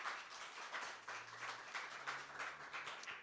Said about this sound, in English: So let's give a round of applause to all our poets.